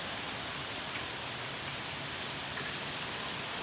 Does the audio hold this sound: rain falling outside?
yes